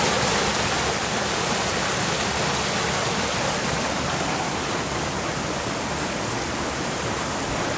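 River water pours steadily over Fukugawa Falls in northern Okinawa, Japan, a dense, even rush of flowing water that holds at a constant loud level throughout with no voices.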